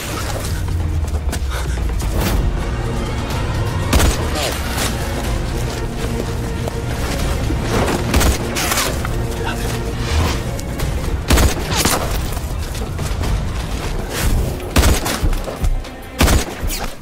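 Sniper gunfire in a Chinese action film, loud repeated sharp shots and booms over a dense, continuous soundtrack with no speech.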